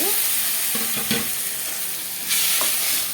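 Tomatoes and dried red chillies sauté in a pan for drumstick sambar, giving a steady close sizzle with a few stirring scrapes and clatters and no talking.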